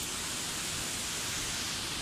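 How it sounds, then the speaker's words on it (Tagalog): Tinuy-An Falls in Bislig City, Surigao del Sur, pours as a steady, dense roar of broadband water noise with heavy mist, constant and enveloping with no voices. "dito ako ngayon sa Tinuy-An Falls, may Surigao, and it's majestic"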